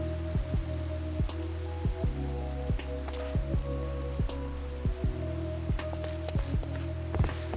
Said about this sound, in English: Does that make the rain go away?